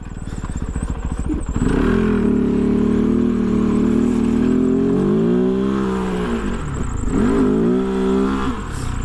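A 2023 Kove FSE 450R rally motorcycle with a cable-operated throttle accelerates hard close by. The engine roars loudly and continuously, rising and falling in pitch through a couple of gear changes.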